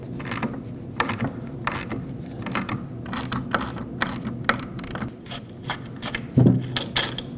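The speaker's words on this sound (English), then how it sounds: "Take a 10mm socket and remove it." Hand ratchet with a 10mm socket loosening an impact sensor nut on a Ford Escape, a quiet series of uneven clicking strokes close by, with light metallic rubbing between them.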